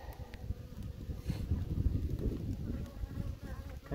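Honey bees from a small caught swarm buzzing close by, a soft, continuous drone with some wind rustle over the microphone.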